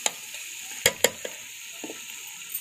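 Gobhi aloo sabzi frying in a pot in Punjabi home cooking, with soft steady sizzling broken by a few sharp stirring clacks of a spoon against the pot, close and moderately quiet.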